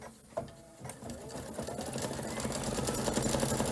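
Embroidery sewing machine stitching a red work detail in burgundy thread, a fast even needle rattle that starts quietly and settles into a steady close hum.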